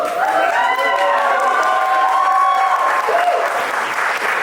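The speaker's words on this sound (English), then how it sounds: "let's give another big round of applause" Sustained applause from a party audience fills the room, steady and loud throughout, with cheers and a few voices mixed into the clapping crowd.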